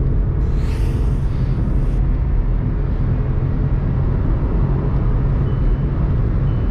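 Volkswagen Polo GT 1.0 TSI accelerating flat out: a steady, loud low engine and road rumble heard from inside the car, continuous throughout with no talk.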